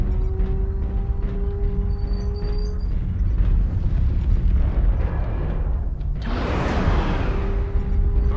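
In MechWarrior Online, an artillery strike lands with a sudden broad blast about two-thirds of the way through, over a constant mechanical hum and faint electronic tones.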